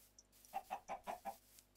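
Chickens in the video game Minecraft clucking, a quick run of five or six short, faint clucks in rhythm, alone without talk.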